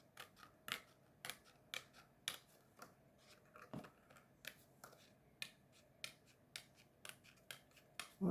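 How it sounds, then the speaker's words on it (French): Scissors snip through paper while a circle is cut out, with about a dozen crisp, evenly spaced snips close by in a quiet room and no talking. "je vais découper le rond carrément"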